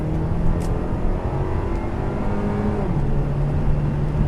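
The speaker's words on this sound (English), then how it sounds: "I'm gonna floor it in GS mode." A 2014 Buick Regal GS accelerating at full throttle in GS mode, its engine droning loud and close from inside the car with rising tones that drop as it shifts gears, no talking.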